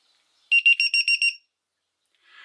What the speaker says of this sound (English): I got stuck with the voltage indicator beeping away for about a mile